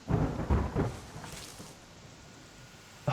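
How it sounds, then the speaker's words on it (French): Rain and a low thunder rumble from the video game The Forest, with loud rolling bursts in the first second that fade into a steady, quieter wash of rainfall. "Il se met à pleuvoir réellement tout droit, normalement."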